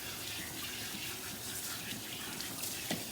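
Tap water runs steadily into a salon sink while hair is rinsed after a clarifying wash, a continuous close hiss with faint splashes and no talking.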